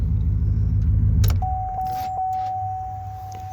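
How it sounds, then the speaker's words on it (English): A Chevrolet pickup truck engine idles steadily with a low rumble, a few clicks and a brief jingle early on, then a thin steady tone over the running motor. "So it's a sweet sounding truck, it really is."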